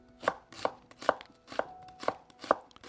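A knife julienning radish on a cutting board, about six crisp knocks at an even, unhurried pace, close and clear with no talking.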